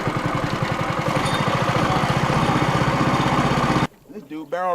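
A fishing boat's outboard motor runs loud and close on the water with a steady pulsing drone for nearly four seconds, then cuts off abruptly, leaving a voice.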